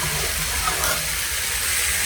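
A pot of tomato sour curry bubbling on the stove as olives are added, a steady close hiss and sizzle of boiling liquid with soft stirring clatter throughout.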